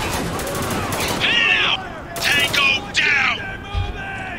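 Gunfire in the video game Spec Ops: The Line, several sharp bursts of shots with ringing echoes spread across the clip, someone talking between and over them.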